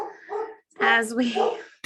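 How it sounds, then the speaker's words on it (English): A dog barks and yips nearby, several short bursts over two seconds, loud and clear in a home setting. "my dog is choosing this moment to bark"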